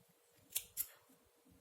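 Scissors snip through crochet yarn in two quick, crisp cuts close to the microphone, with a faint third click at the end in an otherwise quiet room.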